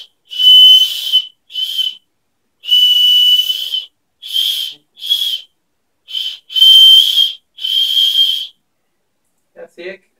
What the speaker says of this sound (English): So this is an emergency whistle, so if you get lost or anything, you can get attention to yourself